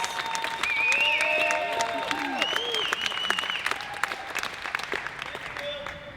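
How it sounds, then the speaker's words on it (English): Audience at a state Republican party convention giving a round of applause, a loud sustained wash of many hands clapping with whistles and cheers mixed in, tapering toward the end. "Can we give Bill a round of applause for everything he does for us"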